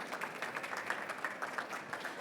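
Conference attendees at a sustainability event in Madrid give a modest round of clapping: soft, fairly distant and steady, with faint rhythmic pulses running through the crowd for a couple of seconds.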